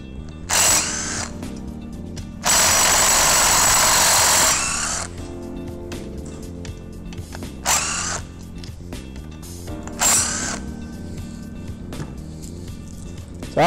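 Power driver backing out the hand wheel screws on a Limitorque MX10 electric actuator, several short whirring bursts of varying length, one lasting about two seconds, with quieter clicks and handling noise between them.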